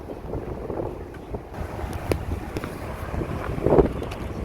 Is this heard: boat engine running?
yes